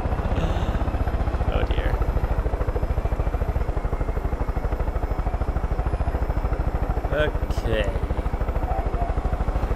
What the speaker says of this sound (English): I parked my helicopter right on a railroad track.